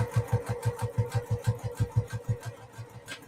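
A Juki sewing machine runs slowly while stitching a quilt block, producing an even, rhythmic thumping of the needle, about five strokes per second, loud and close with no voices.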